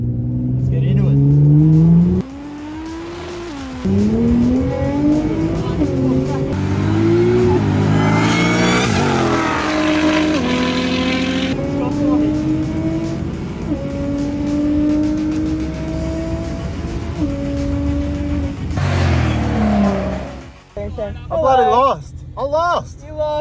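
A 1000 hp Jeep Trackhawk engine winds up hard during a race, loud rising revs sweeping upward through repeated gear climbs for about twenty seconds, then cutting off abruptly; talk carries over the engine throughout.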